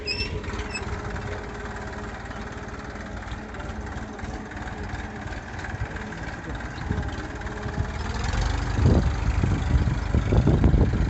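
A Massey Ferguson tractor with no weight on the back runs steadily as a continuous low engine drone heard up close from start to finish, rising louder near the end, while people talk over it.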